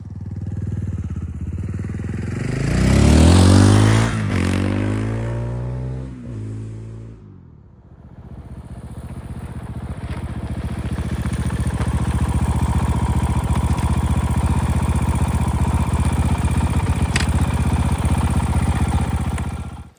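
A Fantic Caballero 500 scrambler motorcycle revs its exhaust loudly up close, rising and falling sharply, then drops back and settles into a steady rumbling idle.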